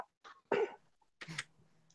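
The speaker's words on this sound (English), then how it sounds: "I just had to clear my throat" A person clears their throat in a quiet room, a few short rough bursts separated by brief silences, close and fairly soft.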